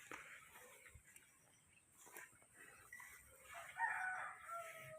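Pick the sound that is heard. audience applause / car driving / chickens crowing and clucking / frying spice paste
chickens crowing and clucking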